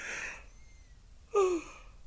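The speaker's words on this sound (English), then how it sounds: "you guys know I yawn on my videos" A single drawn-out yawn with a breathy opening and a short voiced, falling moan near the end, close and alone in a quiet room.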